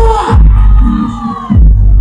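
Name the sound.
audience applause and cheering from left side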